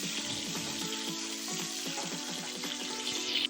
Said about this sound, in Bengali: সর্ষের তেলটা গরম হয়ে আসছে, তো ডিমগুলোকে দিয়ে আমি হালকা হালকা করে ভেজে নেব